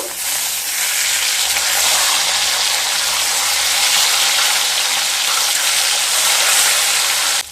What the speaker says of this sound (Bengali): তেলটা গরম হয়ে গেলে মাছগুলো দিয়ে দেব। মাছগুলোকে খুব ভালোভাবে ভেজে নেব।